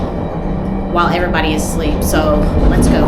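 Via Rail passenger train rolling along between Vancouver and Toronto, a steady low interior rumble and hum beneath someone speaking quietly.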